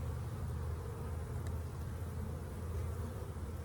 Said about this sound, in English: you can see bee activity on there